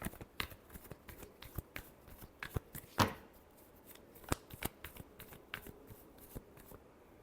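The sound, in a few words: shuffling tarot cards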